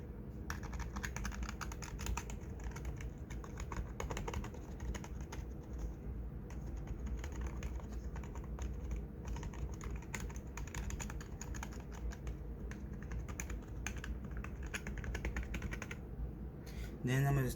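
Computer keyboard being typed on, a run of soft rapid key clicks at close range with faint bird cooing in the background.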